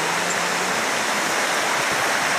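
A waterfall roaring steadily, a dense, even wash of rushing water filling the whole clip, loud and close with no pauses or voices.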